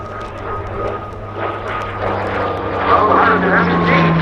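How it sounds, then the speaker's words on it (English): A Hawker Hurricane I propeller fighter climbs away at an RAF airshow, its piston engine droning loud and close, rising in pitch toward the end, while an announcer speaks over it. "There's the Hawker Hurricane 1 getting into the air."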